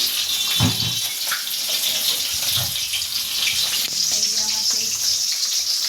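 Water poured for drinking, running steadily as a continuous bright wash of splashing that stays fairly loud and close throughout, with a few faint clinks mixed in and no clear talk.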